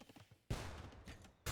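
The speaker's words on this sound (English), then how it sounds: "the bombard cannon is there hitting houses" Bombard cannon blasts striking houses in a strategy video game: a loud booming impact with crumbling debris, a burst of heavy noise that cuts off, then another blast beginning right at the end, with faint clatter before.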